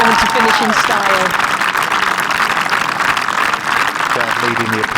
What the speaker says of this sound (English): Crowd leading the applause.